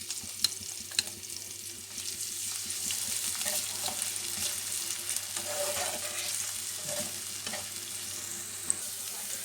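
Chopped onion fries in hot oil in a pan for a masala fried egg, giving a steady close sizzle with faint stirring scrapes throughout and a couple of sharp clicks.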